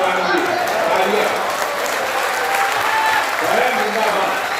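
Audience applause during a Hindi poetry recital, a sustained wash of clapping with a voice faintly over it.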